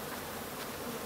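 Bees buzz at an open beehive, a dense, continuous close hum lasting about a second with no talk.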